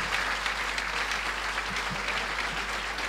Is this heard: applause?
yes